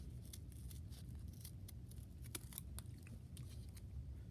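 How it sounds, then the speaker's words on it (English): Scissors snip through folded paper to cut a half heart for a classroom paper snowflake, quick close crisp cuts in an irregular run with no talking, quiet overall. "I'm gonna cut that half heart out"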